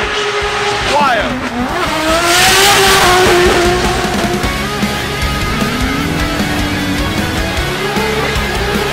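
A drift car tears around a race track, its engine revving hard with tyres squealing in long sliding wails, loud and close, with a voice talking over it.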